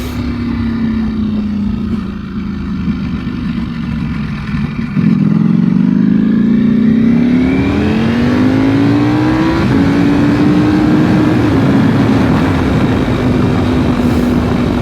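A Ducati V4 SP motorcycle accelerates while ridden on the road, its engine droning, then surging louder midway with pitch climbing through gears over heavy wind rush, with no talk.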